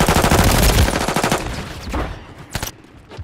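Rapid automatic gunfire from a weapon in a shooter game, loud and close, tapering into a few scattered shots.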